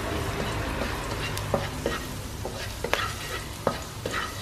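Tofu, bamboo shoots and mushrooms fry together in hot oil with a continuous low sizzle, broken by scattered clicks and scrapes of stirring nearby.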